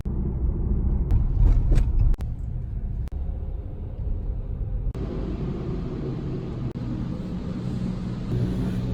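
Automatic car wash working over a salt-covered car, heard from inside as a loud, steady low rumble and wash of spray with sharp knocks and shifts in tone as the equipment moves along, no talking.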